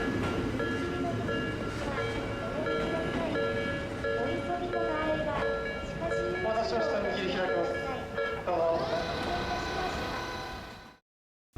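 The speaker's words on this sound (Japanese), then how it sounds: "列車が通る間も、警報器は鳴り続けます。" A seven-car commuter train rolls through an urban level crossing under elevated-track construction while the crossing warning bells ring steadily, close and loud. The rumble and clatter continue for about ten seconds before cutting off abruptly.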